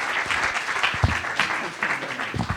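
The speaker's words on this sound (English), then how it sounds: "let's give a round of applause for Mr." A seminar audience breaks into a round of applause for a speaker being welcomed to the stage, dense clapping filling the room with a voice talking over it.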